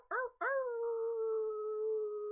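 A person imitates a wolf howl, a brief yelp followed by a long sustained tonal howl that holds steady and slowly fades, close and clear with no other sounds.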